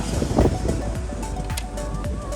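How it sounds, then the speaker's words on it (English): Gusty wind buffets the microphone with low, rumbling thumps and rushing noise, close and uneven. "Super windy here"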